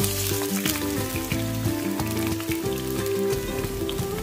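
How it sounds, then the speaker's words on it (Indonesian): Onions and garlic dropped into hot oil for a sweet-and-sour fish sauce, crackling in a loud, dense, steady sizzle close up, with no talking. "Panaskan minyak, kemudian masukkan bawang besar dan juga bawang putih."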